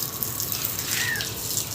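Water runs steadily from a hose or pipe to soak bricks at a construction spot outdoors, a constant close gushing hiss with no talking.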